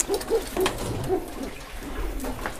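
A racing pigeon coos in a few soft, throaty bursts close by, with faint background noise and no talking.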